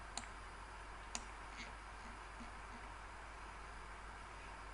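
A computer mouse clicks twice, faint and sharp, while dragging in SketchUp, with long stretches of quiet room hiss around the clicks.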